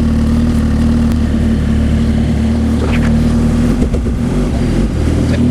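A Suzuki GSX-R 1000 motorcycle engine runs steadily nearby, a loud, constant low drone with some wind buffeting and a few brief clicks and rustles, no speech.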